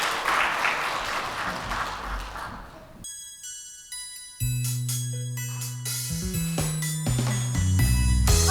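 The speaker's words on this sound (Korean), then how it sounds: "우리 큰 박수로 우리 맞도록 하겠습니다" A church congregation applauds to welcome a Sunday school offering dance, clapping filling the first few seconds before it stops and music with tones and beats starts.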